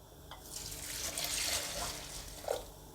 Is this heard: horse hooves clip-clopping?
no